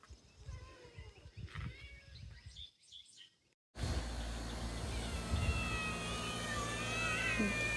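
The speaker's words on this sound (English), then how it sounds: "Chorus of crazy cats." Several farm cats, five females and four males waiting to be fed, meow in an overlapping hungry chorus with a caterwaul or two. Birds chirp faintly around them, and the cats drop away into outdoor ambience with faint bird calls.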